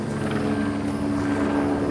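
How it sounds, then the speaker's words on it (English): A helicopter hovers overhead above a garden, a steady droning whir filling the air with no pauses. "we get a helicopter hovering over us for the last about half hour"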